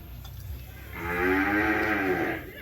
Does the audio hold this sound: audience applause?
no